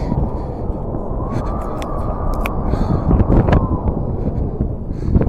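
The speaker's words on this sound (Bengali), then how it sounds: "প্রচন্ড হাওয়া দিচ্ছে, দাঁড়ানো যাচ্ছে না, এত ঠান্ডা হাওয়া।" Strong, cold wind gusts roar across the microphone at a high mountain viewpoint along the Silk Route near Changu Lake, a dense, continuous rush that swells slightly toward the end.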